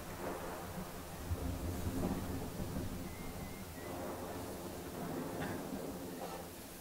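A thunderstorm in the video game Smalland: steady rain with low rolling thunder rumbling throughout, continuous and fairly full, with no talk.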